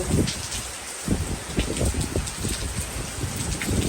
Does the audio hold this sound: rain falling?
yes